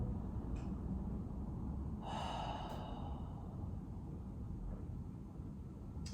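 Close, audible breaths during a slow floor exercise, with one long inhale and exhale in the middle and a couple of softer breaths around it, over a steady low background hum.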